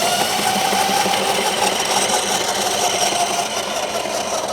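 A homemade 48V 1000W e-bike hub motor spins at high speed, giving a loud, steady, close electric whine and hum that holds unbroken throughout, with no voices.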